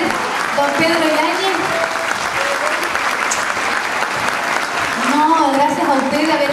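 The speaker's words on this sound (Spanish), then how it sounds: "Fuerte el aplauso entonces, don Pedro Yáñez." Crowd at a cueca and folk singing gathering applauding a performer, loud continuous clapping throughout while a voice talks over it at the start and again near the end.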